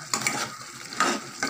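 Spicy chicken masala gravy, made with skin-on chicken and little oil, sizzles and bubbles in a pan with light stirring. The close, steady crackle and hiss are heard alone, with no voices.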